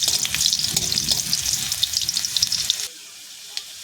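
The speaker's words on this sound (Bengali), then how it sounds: "তেলটা গরম হয়ে গিয়েছে, এখানে দিয়ে দেবো কিছুটা রসুন, থেতো করে রাখা রসুন।" Crushed garlic frying in hot oil, a bright continuous sizzle with stirring clatter that cuts out sharply near the end, leaving only a faint hiss.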